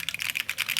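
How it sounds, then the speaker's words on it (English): Blue switches on a Keychron Q1 Pro mechanical keyboard click sharply in a quick, even run of about a dozen close keystrokes, crisp and alone. "These are blue switches, so you guys can hear the clickiness, right?"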